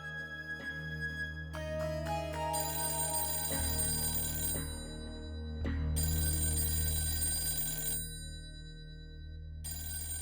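A telephone rings with bright, repeated electronic tones, loud and steady, pausing briefly between rings, with no one talking.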